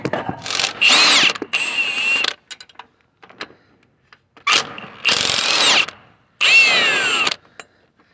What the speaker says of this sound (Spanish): voy a quitar esos tornillos, a su medida 15.